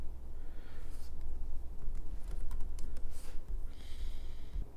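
Password being typed on a computer keyboard, a run of light, fairly quick key taps at close range over a low steady hum, with no talking.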